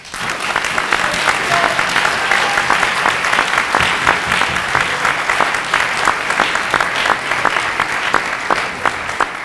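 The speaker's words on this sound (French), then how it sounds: "je pense qu'on peut aussi applaudir la Fédération francophone de débat" Sustained applause from the audience at the final of the 2024 Coupe de France de débat, a dense steady wash of many hands clapping with scattered sharper claps, loud and continuous throughout.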